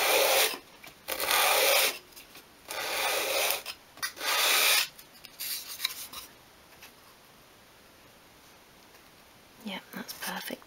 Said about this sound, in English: so I'm just going to sand that off.